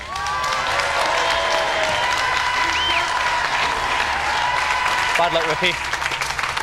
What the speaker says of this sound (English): Round of applause for them anyway.